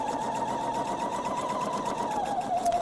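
Sewing machine stitching a fabric thread catcher with no backstitching at the ends, a steady continuous motor whir with fast rapid needle rhythm, close and alone, slowing slightly at the end.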